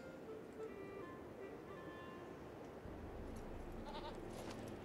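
A Harvest Brew Goat in the LOTRO video game bleats a few times, faint and somewhat distant, over a low ambient wash.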